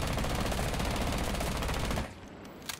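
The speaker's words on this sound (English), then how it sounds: "So if I was to fire again," Ela's Scorpion submachine gun in Rainbow Six Siege firing one rapid, continuous burst for about two seconds, then stopping abruptly, leaving a quiet tail.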